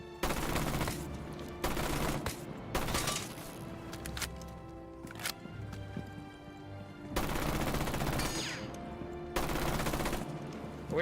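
Rainbow Six Siege gun spraying automatic bursts, loud rapid-fire volleys of clattering shots separated by short pauses, repeating across the scene.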